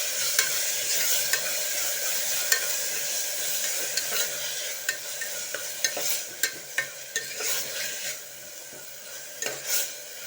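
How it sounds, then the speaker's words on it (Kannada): Ground masala sizzles and fries in a pan for soya chunks pulao, with a steady crackle and repeated scraping stir strokes of a spoon against the pan, close and fairly loud, no talk. "ಒಂದು 2 ಮಿನಿಟ್ಸ್ ಇದನ್ನು ಫ್ರೈ ಮಾಡಿಕೊಳ್ಳುವ."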